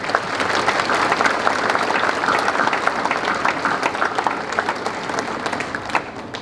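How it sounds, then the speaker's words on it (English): A graduation ceremony audience at the University of Technology, Mauritius applauds the academic staff, with steady, full hall-wide clapping sustained throughout. "I would kindly request you all to join me in applauding all those academic staff of UTM"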